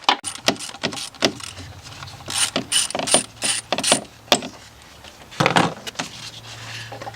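Ratchet wrench clicking in repeated bursts as it breaks loose and backs out three bolts on a Ford EcoSport, Fiesta or Focus engine near the throttle body, close and crisp with short pauses between runs.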